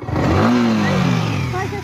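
A Yamaha MT-15 V2 motorcycle accelerating on a ride, engine note rising in pitch as it revs up close by, with people talking over it.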